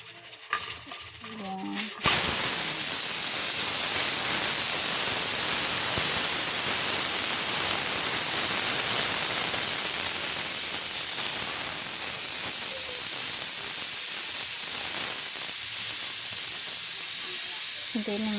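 Steady, loud hiss of steam venting from a pressure cooker cooking horse meat on a stove, continuous for the whole stretch after a brief clatter at the start.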